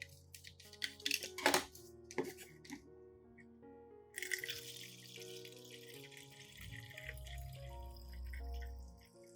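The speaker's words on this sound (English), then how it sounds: "The remaining solution is poured into a spray bottle." Orchid nutrient solution pours into a plastic spray bottle, first as scattered drips and splashes, then a fuller, steady trickle with a rising, filling tone, close and clear, over a soft musical backing.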